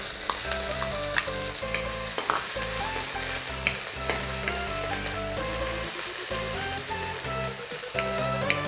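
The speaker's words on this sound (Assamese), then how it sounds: "পিঁয়াজখিনি অকণমান মনচুৱা হ'লে ভাজিব লাগিব" Sliced onions frying in hot oil with cumin while being stirred for bread pakoda, a steady close sizzle with occasional spoon scrapes and clinks.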